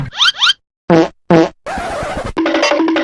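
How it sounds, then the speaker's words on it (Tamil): A comic fart sound in a Grand Theft Auto San Andreas game adventure, several short squeaky bursts and then longer flapping, buzzing blasts, loud and close. "எனக்கு குசு வந்துகிட்டே இருக்கு"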